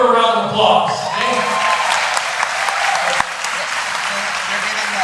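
Dense applause from a gala auction crowd rises after a brief voice at the start and continues steadily at close, loud level.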